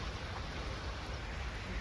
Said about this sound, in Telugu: కానీ వాటర్లో చినుకులు పడుతుంటే చూడు ఎట్లున్నాయో